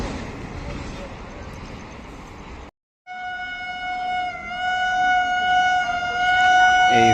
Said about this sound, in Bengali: এখন চলে যাচ্ছে আসানসোলের দিকে দুশো উনিশ কিলোমিটার জার্নি করবে এই ট্রেনটা মোটামুটি চলে গেল দ্রুত গতিতে